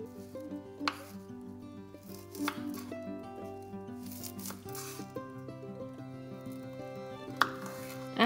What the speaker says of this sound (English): chop off the head and the bottom and you can cut them into half pieces